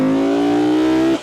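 A Lexus LFA V10 holds a loud, steady, high-pitched rev, a brief sustained engine wail up close that drops off abruptly at the end.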